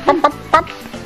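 A few short, throaty clucks close by, three quick bursts in about a second with a faint low hum beneath.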